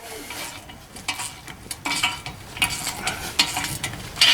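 A crowbar works a rusted ball joint loose on a Chevrolet Tahoe or GMC Yukon front suspension, producing gritty scraping and crunching with sharp metallic clicks and pops at close range, irregular and growing louder toward the end.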